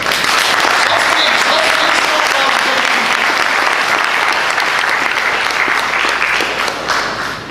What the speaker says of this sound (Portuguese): Vamos dar um aplauso a Jesus, então?